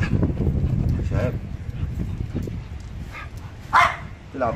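A white husky, eight months old, gives short barks and yips amid a group of dogs playing outdoors, mixed with someone talking over a constant rumbling background.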